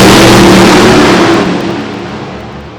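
A drag racing car roars at full throttle down the strip at Bowling Green, loud and close, its engine note holding strong before fading slightly as it pulls away over a few seconds.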